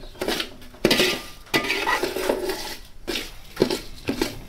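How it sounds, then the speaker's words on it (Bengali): Govindabhog rice frying in a pot for a mutton biryani, stirred with a metal spoon: irregular scraping and clinking strokes against the pot over a faint sizzle, close by and with no talk. "চালটা ভাজা হোক"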